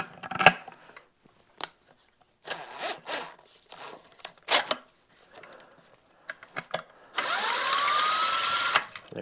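Scattered handling clicks and taps, then a power drill whirs up loudly for a couple of seconds, spinning a spool to wind up electric fence wire, spinning steadily before stopping.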